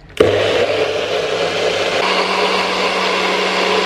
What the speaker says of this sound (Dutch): En we gaan nu blenden.